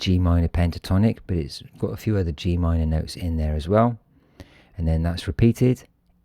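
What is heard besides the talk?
No everyday noises stand out.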